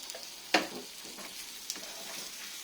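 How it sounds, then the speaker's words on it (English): Eggs being stirred into hot cooked vegetables in a frying pan, a sharp scrape of the utensil followed by a steady soft sizzle with lighter stirring sounds, no talking. "You just want to add your eggs in. Same again, just add them all in at once and keep them moving."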